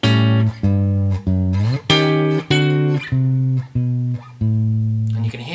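Guitar chords strummed one after another in a steady rhythm, each ringing briefly before the next, with chords sliding a step up or down between them.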